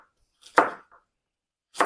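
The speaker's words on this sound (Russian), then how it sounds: "Нарезаю кубиками морковку" A knife dicing carrots into small cubes for a vegetable salad, heard as a few sharp, close chops on a board separated by short pauses, with no talking.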